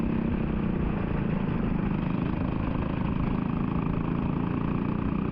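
A racing go-kart engine drones loud and close with a steady, continuous buzz, heard on board during a wet-weather race start at Vancouver Island Karting.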